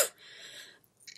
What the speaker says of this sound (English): I knew that the perfume smell was going to make me start coughing